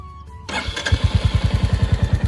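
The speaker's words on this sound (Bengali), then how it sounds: "এবার হচ্ছে আমি বাইকটা স্টার্ট দিয়ে আপনাদেরকে সাউন্ডটা শোনাই।" A Royal Enfield Classic 350 motorcycle in neutral starts up close by, with a brief starter whir, then a loud, steady, rhythmic thumping idle.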